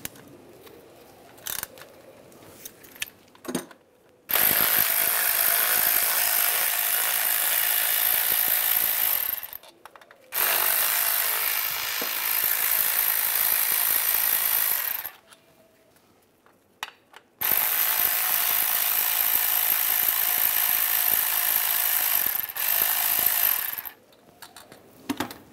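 Loud, continuous ratcheting from a socket wrench backing out the four bolts on a transfer case shift motor of a 2007-2013 Chevy Silverado, running in three long bursts separated by short pauses, with no talking.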